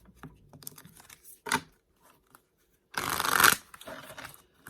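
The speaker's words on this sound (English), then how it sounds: "This deck is difficult for me to shuffle with my tiny hands, so I have to split it like this" A tarot card deck is split and shuffled in a few short bursts, ending with one longer, louder shuffle close up.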